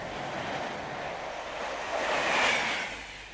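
A Class 91 electric train pushing its coaches passes beneath a modern road bridge at Red Hall, a steady broadband rush that swells toward the end as it draws nearest.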